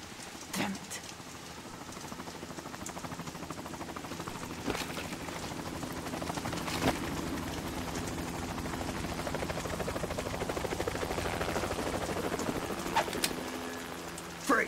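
A helicopter from the Metal Gear Solid 2 video game thrums steadily throughout, a continuous rotor drone with scattered sharp clicks and impacts over it and no voices.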